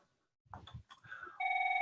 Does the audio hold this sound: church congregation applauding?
no